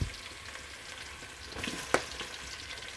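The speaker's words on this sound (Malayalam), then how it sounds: "ഞാൻ സവാളയും പൊരിച്ച് കോരി എടുക്കാൻ പോകുന്നുണ്ട്" Onions deep-frying in oil for Kerala-style beef biryani, a steady soft sizzle with faint crackles and one sharper pop partway through, close and alone.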